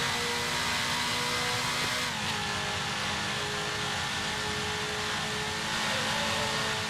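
Mercedes-Benz W19 Grand Prix race car in a racing game at Spa-Francorchamps, its engine roaring loud and steady at high revs with a brief shift in pitch near the middle, no voices.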